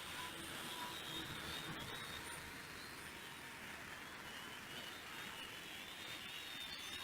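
A U42WH Petrel drone in flight on a windy day, giving a steady broadband whir and rushing hiss that holds evenly throughout, moderately distant with no voices.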